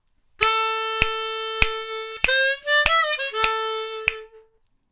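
Solo diatonic harmonica in D plays a short blues phrase: a few sustained notes with sharp attacks, then a bent, sliding note that fades out, close and clear.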